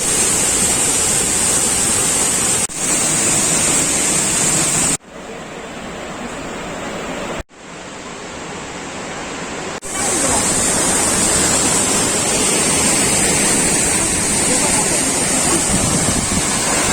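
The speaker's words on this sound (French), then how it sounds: "l'excursion du jour, c'est les cascades de Chiflon." Chiflon waterfalls in Mexico roaring as a constant loud rush of falling water, broken by abrupt cuts into quieter stretches before the full roar returns.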